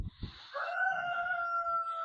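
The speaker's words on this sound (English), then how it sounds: "Hope you could hear that rooster" A rooster by a barn housing laying chickens lets out one long, drawn-out crow, clear and moderately close, after a couple of soft thumps.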